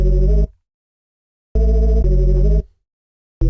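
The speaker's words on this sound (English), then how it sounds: "Bass Mate is a really nice kind of UK garage Reese bass," UK garage Reese synth bass in short sustained bursts separated by silence, a thick buzzy low tone, loud and alone with no voices.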